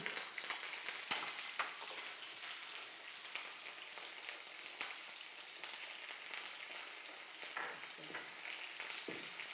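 Bisi bele bath tempering (oggarane) with curry leaves crackles and sizzles steadily in a hot pan, with occasional scraping stirs and light clicks throughout, close and continuous with no talk.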